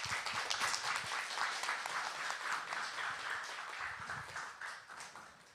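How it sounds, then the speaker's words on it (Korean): A church congregation at a special Friday worship service gives a steady, dense round of applause to welcome a guest pastor, many hands clapping together for several seconds and fading slightly toward the end. "격려의 박수로 모시겠습니다."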